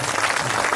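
Brief burst of dense audience applause at a retirement welcome ceremony for an army havildar major, loud and steady, filling the whole moment with no voices on top.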